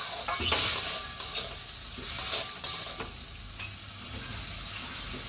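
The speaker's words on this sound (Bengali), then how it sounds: "এবার আমি মশলাটা কষা হয়ে গেছে জল দিয়ে দিচ্ছি" Fried spice paste for a pui shak dish sizzles loudly in the pan as a little water goes in, with steady hissing and several sharp spatula scrapes and stirs.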